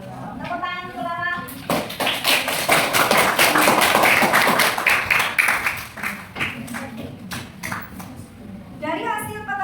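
A sixth-grade class claps hands together during a math lesson, quick overlapping claps that build into a burst and then taper off, with a voice speaking before and after.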